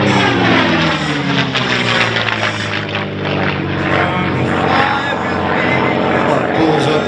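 A P-51 Mustang warbird's piston engine roars loud and continuous through an aerobatic loop at an air show, a steady droning snarl with rising and falling pitch as it climbs and dives.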